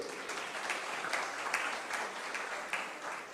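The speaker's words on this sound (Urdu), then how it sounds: "اگر آپ کو تالیاں بجانی ہو تو بجا لیں, کوئی حرج نہیں ہے" Audience applause breaks out during a political speech by Miftah Ismail: a sustained wash of many hands clapping at moderate distance, steady and dense with slight swells, no speech over it.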